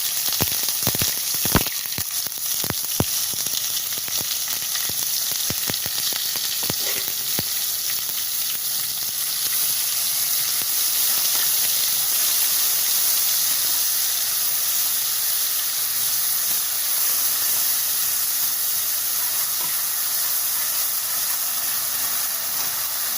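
Green chilli paste fries in a pan for a special potato fry, a loud, steady sizzle with a few sharp clinks of a utensil early on, continuing alone without voices.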